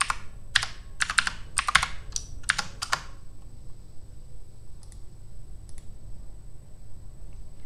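Rapid bursts of computer keyboard typing while logging in, several quick clusters of clicks close by in the first three seconds, then near silence with a couple of faint isolated taps.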